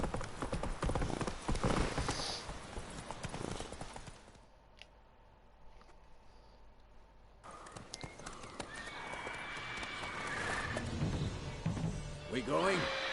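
The horse Roach in The Witcher 3 clip-clops along with hoofbeats and a whinny amid game music and effects. Louder passages come at the start and end, around a quieter stretch in the middle.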